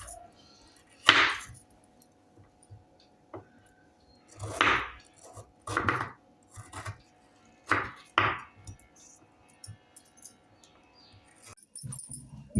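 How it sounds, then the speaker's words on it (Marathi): A knife chops Indian gooseberries (amla) into small pieces on a cutting board, making about ten crisp, close thuds in uneven bursts separated by quiet pauses. "आता ह्याचे असे छोटे छोटे तुकडे करायचे."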